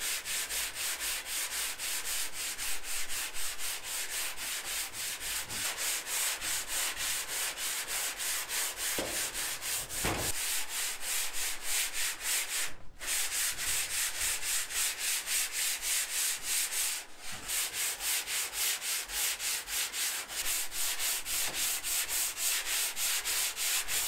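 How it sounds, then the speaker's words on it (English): Steady back-and-forth scraping of a sanding block with 80-grit paper on a camper door, a rapid even rhythm running continuously, close and fairly loud, with a couple of brief pauses. "I've got some 80 grit paper and a block, so I'm just going to block down this door"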